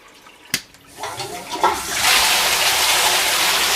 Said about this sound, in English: it immediately starts drawing down the water in the barrel to run it through the filter